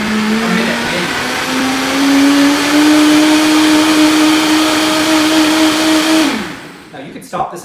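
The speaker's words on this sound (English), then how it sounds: "This is going to turn up, blend this all up." A countertop blender whirs loudly, blending a green smoothie with a steady, high motor whine and churning that holds for several seconds, then winds down and stops, leaving a few soft clicks.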